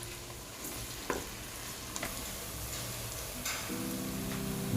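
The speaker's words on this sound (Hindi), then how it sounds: "ये प्याज हमने लहसुन अदरक में ऐड कर दिए और प्याज को भी साथ थोड़ा ब्राउन करेंगे।" Chopped onions browning in hot oil with garlic and ginger, a steady soft sizzle with occasional stirring clicks and scrapes, close and continuous without talk.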